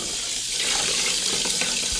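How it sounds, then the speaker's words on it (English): Water from a tap running into a basin being rinsed, a steady broadband splashing rush heard close up and alone, holding even for the whole stretch. "So you are going to turn the water on."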